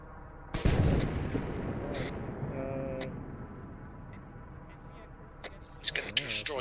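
Gunfire and a heavy mortar-type blast boom out in an Arma 3 battle, one strong impact early followed by rumbling aftermath, sharper cracks and shots scattered later, with voices talking over the combat.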